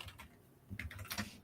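Typing on a computer keyboard while working on a spreadsheet, a short burst of uneven, close clicks and taps with small clusters of quicker strokes.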